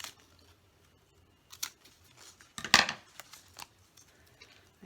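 Scissors snipping through thin cereal-box cardboard, a few quiet crisp cuts with one sharper, louder snip in the middle, close and otherwise hushed.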